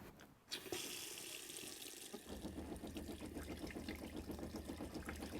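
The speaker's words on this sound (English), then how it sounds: "You'll be able to get a pressurised flow of water, and this is hot water there coming through now." Hot water runs from a pressurised tap into the kitchen sink of a Mobilvetta K-Yacht 90 motorhome, a steady close splashing stream that follows a brief click of the tap opening.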